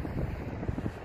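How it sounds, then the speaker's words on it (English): Wind buffeting the microphone on a windy hilltop overlooking Las Vegas in Henderson, Nevada, a loud, continuous low rumble with gusty fluctuations and no voices. "Pardon the wind, it's a little windy up top."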